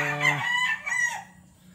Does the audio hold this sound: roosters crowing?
yes